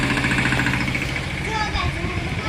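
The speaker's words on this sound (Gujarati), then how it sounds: "પપ્પા ટ્રેક્ટર લઈને જાય છે" A tractor engine chugs at a low, steady idle as it pulls away on a village farm, a close, continuous mechanical rumble with a voice talking over it.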